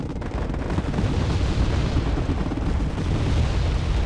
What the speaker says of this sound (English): Mortaring the French reservists.